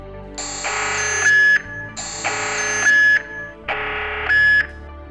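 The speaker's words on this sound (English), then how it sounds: "An unexpected tiny gap could set off the door sensor." Door sensor alarm on a SANNCE wireless security camera system sounds indoors as loud, repeated electronic beeping in three even bursts of two tones each, with nobody talking.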